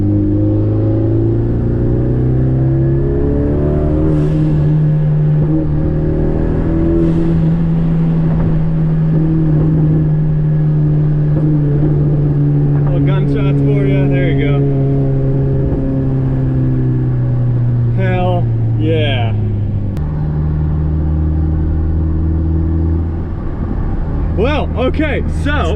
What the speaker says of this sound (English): the new blow-off valve works. It makes little sneeze noises and my car goes psh, psh.